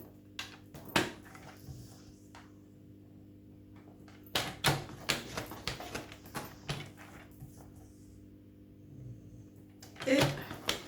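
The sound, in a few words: paper being folded into creases for scrapbooking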